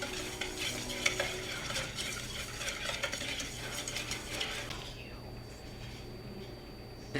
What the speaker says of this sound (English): Then we're just gonna whisk all that together.